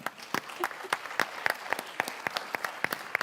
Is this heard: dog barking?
no